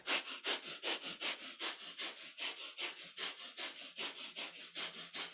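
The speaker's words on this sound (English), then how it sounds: "we come into that spinal flex with a breath of fire" Kundalini yoga breath of fire during a spinal flex: quick, rhythmic, forceful nasal exhales pulse about three times per second, close and steady, with no talking.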